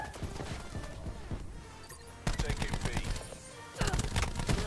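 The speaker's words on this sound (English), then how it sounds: "That's like four people all shooting at me" Rapid gunfire in a first-person multiplayer video game, several players shooting at once, with dense bursts of shots that swell loud in two waves near the middle and end, over a constant game background.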